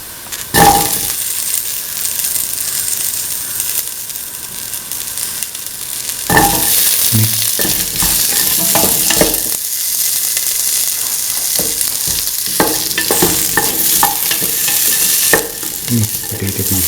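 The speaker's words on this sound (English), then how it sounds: "Mix potato pieces thoroughly." Potato pieces stirred and sizzling loudly in a hot pan for a bottle gourd and coconut milk stew, with a steady frying hiss and intermittent scrapes of the spoon, no voices.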